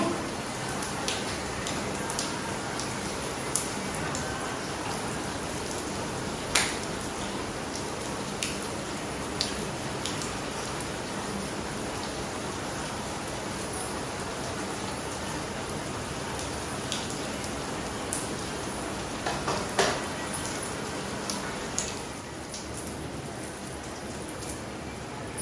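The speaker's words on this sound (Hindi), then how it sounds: "ये देखिए बहुत ही तेज़ बारिश हो रही थी।" Heavy monsoon rain pours down steadily in a village during the Nag Panchami festival, a dense even hiss broken by a few sharper drips close by, with no voices.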